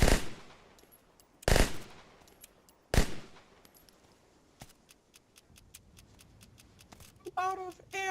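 Video game gunfire at a firing range, with loud single shots followed by a rapid string of sharp, evenly spaced reports, then a brief burst of higher-pitched tonal sound at the end.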